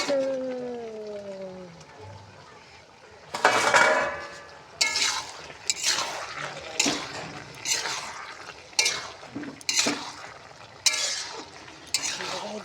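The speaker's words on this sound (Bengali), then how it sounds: "আমরা এই যে মাংস রান্না করতেছি" Meat cooking in a pot is stirred with a metal utensil, giving a series of sharp scraping clanks roughly once a second against a low sizzle, with a voice speaking briefly at the start.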